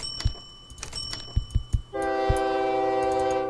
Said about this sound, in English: More trains on the loop, more trains on the loop.